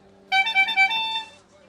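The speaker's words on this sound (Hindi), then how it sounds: "रघु भाई को मिलने हॉर्न बजाओ।" A car horn honks in a short series of bursts, loud and close, over a quiet low hum.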